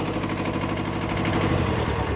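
A Kubota B5001 tractor engine idling steadily in a field, a close, continuous low rumbling drone with even vibration throughout.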